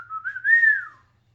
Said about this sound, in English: Can you whistle? I can.